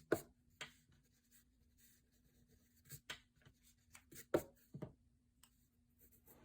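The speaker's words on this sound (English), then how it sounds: "Now I'm going to erase that line in the middle and also erase the lines that are inside the eyes" Pencil eraser rubbing across paper over a portrait drawing, heard as a few short scratchy bursts with quiet gaps between them, close and faint with no talking.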